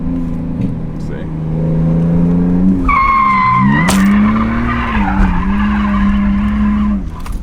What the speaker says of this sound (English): We just drifted like into a parking lot Casually.